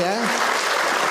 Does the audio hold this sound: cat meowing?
no